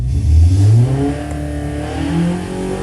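A 1012cc engine revving hard on a dyno, its note climbing sharply to a loud peak, then easing off and running steadily before rising again; close and continuous, with no talking.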